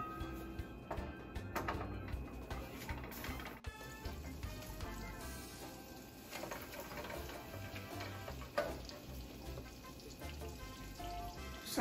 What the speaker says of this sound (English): So for our sauce, we're gonna be using some butter. So we're basically gonna let the butter melt.